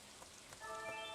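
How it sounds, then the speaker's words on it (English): Rain falls steadily outside in the video game Stardew Valley, a faint soft hiss of drops with a brief bright chime-like tone rising near the end. "I hear rain outside."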